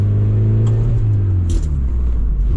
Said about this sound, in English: Shifted so hard it set off the traction control light